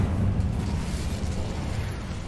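A fire spell being cast in a video game, producing a loud, dense whooshing roar with a deep rumbling body that stays steady throughout.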